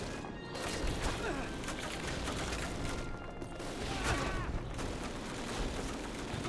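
Sustained machine gun fire in the Call of Duty video game, a dense, continuous rattle of shots with layered battle noise, steady and fairly loud throughout without pauses.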